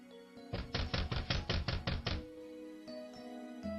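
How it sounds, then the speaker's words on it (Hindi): Knocking on a door in a Hindi Nativity skit, a rapid series of about eight loud, evenly spaced raps close by, followed by a quiet pause. "आगे निकलकर अगले दरवाजे पर खटखटाते हैं"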